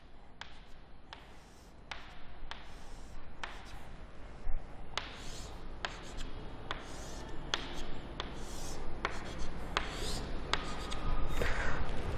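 Chalk or marker writing on a classroom board during a physics lesson, with a series of sharp taps and scratchy strokes at an irregular pace, close and fairly quiet.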